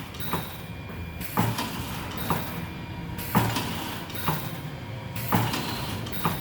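The IDX279-SV machine runs its fastest recipe cycle, a mechanical hum punctuated by regular clunks and creaking slides repeating roughly every second.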